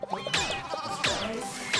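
Sheep in a LittleBigPlanet game level bleat three times in quick succession, loud and close, each cry wavering, with no talk over them.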